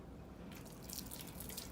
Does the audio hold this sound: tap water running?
yes